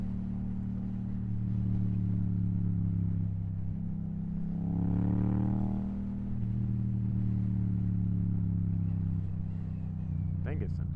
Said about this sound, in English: When I don't get on this bike for a while, I forget how loud it is.